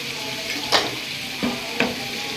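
Green chillies and garlic cloves, with a little salt, sizzle steadily in a pan while a spoon stirs them in a few distinct scraping strokes close up.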